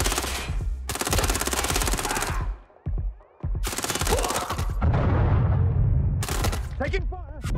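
Bursts of automatic gunfire in the video game Watch Dogs Legion, loud sustained volleys broken by short pauses, with a voice calling out over the shooting.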